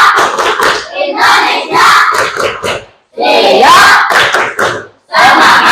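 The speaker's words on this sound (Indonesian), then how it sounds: "Tepuk semangat." Students perform a tepuk semangat spirit clap routine together, loud rhythmic group clapping in patterned bursts mixed with chanted shouts, with a short pause before the final round.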